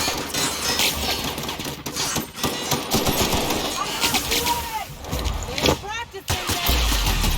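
Rapid gunfire rings out in The Outer Worlds, a sci-fi role-playing shooter, in dense, overlapping bursts with game effects and voices mixed in throughout.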